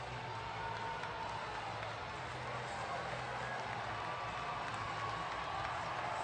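Arena crowd on its feet cheering at an ECHL hockey playoff game between the Adirondack Thunder and Florida Everblades, a steady, dense roar of voices and applause filling the space throughout.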